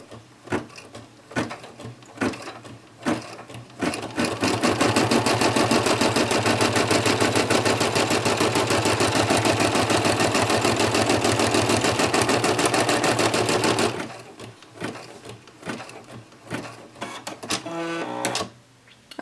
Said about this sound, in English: let's go ahead and figure out where that's going to be by stitching this out